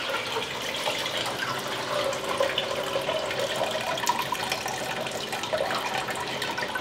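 Water running and draining in a kitchen sink after freshly cooled greens are set to drain, a steady close splashing and gurgling wash that stays even throughout with no talking.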